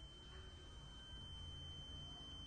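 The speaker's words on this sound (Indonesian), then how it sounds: "buzzer akan berbunyi." A home security alarm buzzer sounds continuously after a wrong password entry, a steady high electronic tone held unbroken and fairly faint, with no voices.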